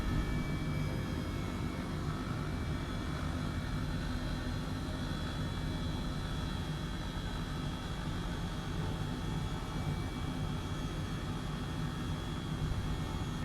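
An Airbus H135 helicopter after landing on Mount Baker in Microsoft Flight Simulator, its turbine whining in a steady broadband roar with a faint high tonal hum, constant and unbroken throughout.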